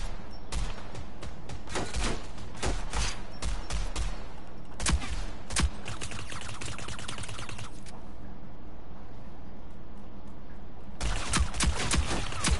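Rapid machine gun bursts crackle in a video game: a dense rattle of sharp shots, then a pause, then more clustered bursts and a final sustained volley, loud and close against steady background hum.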